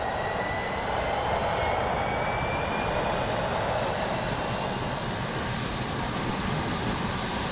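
Turboprop aircraft engine of an M2K-C in MSFS 2024 starting up, a steady broadband roar with a rising whine, loud and continuous throughout without speech.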